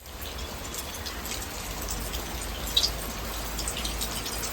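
Steady rain patters on a surface all around, with a constant hiss and a brief pair of louder drips near the middle.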